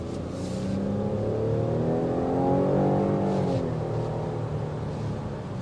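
A 2024 Cadillac XT6 mid-size SUV accelerates with a steady, full exhaust drone that swells and eases as the engine pulls, heard close and alone with no talk.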